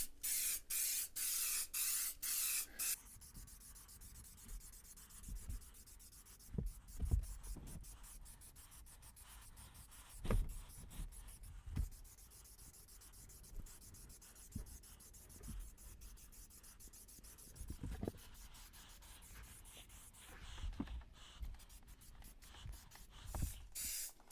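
Aerosol spray paint from a single can hisses steadily for a few seconds at close range on an RV dinette, followed by quieter rubbing and scattered knocks and handling sounds in a ventilated room.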